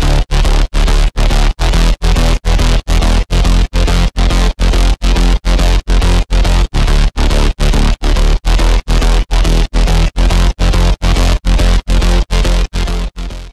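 A loud, distorted synthwave synth bass pulses in a fast, even rhythm of chopped notes, repeating steadily without pause.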